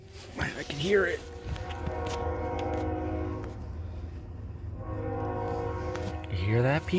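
A BNSF freight train passes nearby, its multi-tone horn blaring in two long blasts at the start and end over a continuous low rumble of rolling cars, with someone speaking briefly at the beginning.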